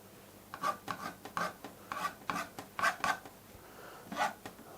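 A painting tool scratches and scrapes acrylic paint on canvas, giving a quiet, close series of short rasping strokes in an uneven rhythm, about a dozen over a few seconds.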